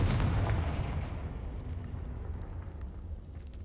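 A Confringo blasting spell in Hogwarts Legacy explodes with a loud booming blast at the start, then a rumbling roar fades slowly, with no talk.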